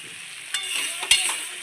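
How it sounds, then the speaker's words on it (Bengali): Stuffed pointed gourd (potol dolma) being stirred in a pan, with a steady soft sizzle of frying broken by a few sharp scrapes and knocks of the spoon against the pan. "এটাকে আমি একটু নাড়াচাড়া দেবো"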